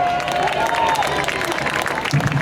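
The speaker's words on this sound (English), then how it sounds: "let's give a big round of applause to the Comptroller for the City of New York" A crowd at a St. Patrick's parade in Queens applauds and cheers for a city official, a dense roar of clapping mixed with voices and a brief tonal sound.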